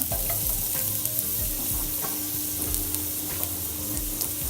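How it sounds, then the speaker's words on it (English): Ginger sizzles in hot oil in a pan while salmon with Asian vegetables is being prepared, a dense steady crackle with small pops and stirring scrapes, close and continuous. "we need some oil in a pan. We're going to add some ginger"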